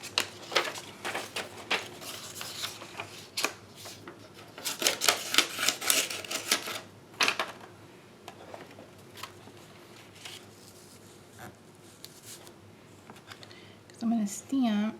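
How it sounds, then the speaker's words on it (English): Copy paper is cut while making a stamped Christmas card, giving bursts of quick crisp snips and rustles, busiest in the middle, with quieter handling sounds between and a short voice near the end. "Just gonna cut a piece of copy paper."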